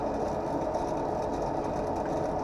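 A lens tracer machine runs steadily, tracing an eyeglass lens for a Cazal Legends 644 frame to set the bevel, giving a continuous close mechanical whir with a faint hum underneath.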